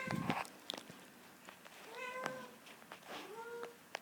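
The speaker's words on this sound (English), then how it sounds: "Excuse my cat." A domestic cat meows several times, with harmonic calls rising and falling over about four seconds, fairly close against quiet room noise, and no speech.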